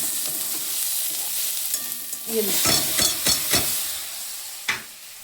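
Mashed boiled banana stem with onion and garlic paste frying in a pan, a steady close sizzle overlaid by several sharp scraping strokes of a spatula being stirred, no speech.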